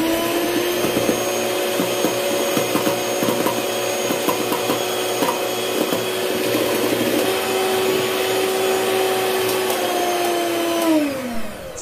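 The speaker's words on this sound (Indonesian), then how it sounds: "Setelah itu mixer kembali dengan kecepatan tinggi." Electric hand mixer running steadily at high speed while beating pandan ogura cake batter, a continuous loud motor whine with a churning rasp that holds for about eleven seconds before winding down at the end.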